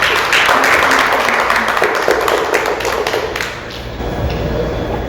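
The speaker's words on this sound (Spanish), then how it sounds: "Den un aplauso fuerte." A church congregation breaks into loud applause, a dense, close roar of clapping that holds strongly for several seconds and then thins and fades into room noise.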